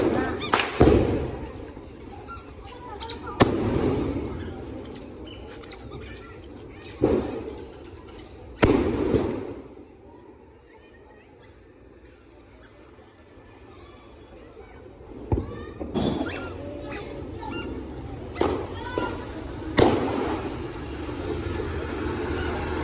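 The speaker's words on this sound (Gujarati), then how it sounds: "આટલા મોંઘા મોંઘા ફટાકડા એકમાં દમ નહીં" Fountain firecrackers (kothi) set off at a Gujarati New Year celebration burst in several loud, sharp hissing and crackling spells separated by a quieter stretch, with people's voices in the background.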